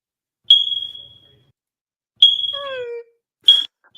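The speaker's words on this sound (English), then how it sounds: "Why am I hearing a smoke detector?" A smoke alarm chirps loud and near in sharp, sustained high beeps, three bursts with gaps between, and a voice cries out over the second one.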